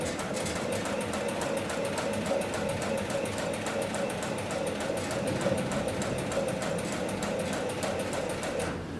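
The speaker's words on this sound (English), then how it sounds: "I'm going to set my foot back down, and I'm going to continue sewing." A straight-stitch industrial sewing machine runs at speed on textile strap webbing, a rapid, even mechanical clatter of stitching that continues close and steady throughout.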